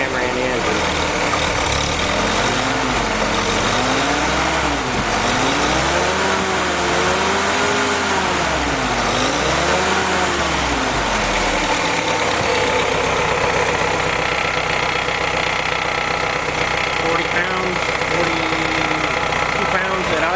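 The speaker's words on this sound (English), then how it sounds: "Okay, Gary, here's your engine running on your original carb." A Willys M38 jeep engine idles steadily on its original carburetor, a loud close mechanical rumble with an even rhythmic chug throughout, alongside some wavering tonal sounds in the first half.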